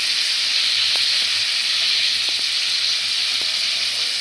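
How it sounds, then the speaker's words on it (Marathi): Cauliflower roasting in a hot pan gives a loud, steady sizzle and hiss that lasts throughout, with a few faint soft knocks and no talking. "फ्लॉवरला पण थोडंसं भाजून घेऊया छानसं."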